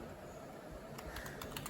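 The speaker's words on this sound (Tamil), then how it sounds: "ஆக்சுவலாக நான் வந்து கீழே டைப் பண்ணிகிட்ருக்கேன்." Rapid typing on a computer keyboard, a quiet, close run of soft key clicks over steady room noise, growing a little more distinct toward the end.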